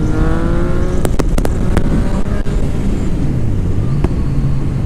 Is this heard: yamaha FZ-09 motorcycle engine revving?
yes